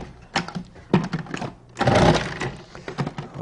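Cuisinart food processor with a slicing disc cutting fennel, giving close, uneven bursts of whirring and chopping clatter, with a longer louder run near the middle.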